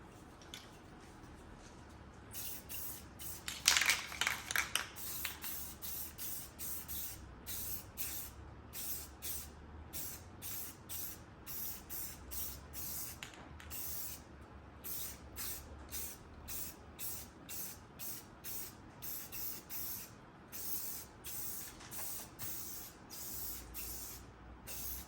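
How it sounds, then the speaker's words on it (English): Rust-Oleum high gloss spray paint hisses from an aerosol can onto Ford Pinto brake drums in repeated short bursts, close and crisp, with a louder cluster early on followed by steady rhythmic sprays. "All right, now we're going to take the spray paint."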